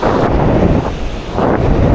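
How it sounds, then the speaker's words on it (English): Strong wind buffets the microphone over rough, choppy beach surf, a loud continuous roar with surging swells, no voices. "that prediction changed because it is windy and very, very choppy"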